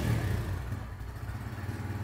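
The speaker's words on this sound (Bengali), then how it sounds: "চলুন তাহলে আমি আগে এক্সস্টের সাউন্ডগুলো আপনাদেরকে" A 2025 Bajaj Pulsar N160 with an underbelly exhaust idles nearby, giving a steady, close, low engine rumble with a slight rhythmic throb throughout, and no talking.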